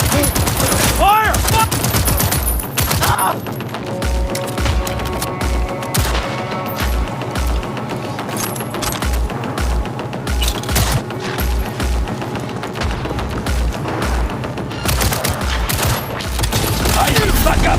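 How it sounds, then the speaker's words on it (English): Loud bursts of automatic gunfire and scattered shots in Cyberpunk 2077 on Xbox Series X/S, rapid repeated volleys with short pauses between them, and shouted voices breaking in now and then. "Opening fire."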